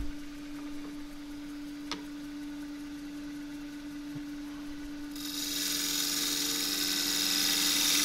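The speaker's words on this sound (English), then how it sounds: "I'm going to take a little shear cut here" A wood lathe hums steadily as a 3/8 spindle gouge takes a shear cut on a turned eggcup; after a quiet stretch, a continuous hissing swish of the cut rises in the last few seconds, close and moderately loud.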